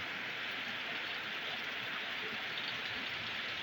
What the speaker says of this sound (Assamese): কিমান ডাঙৰ বৰষুণ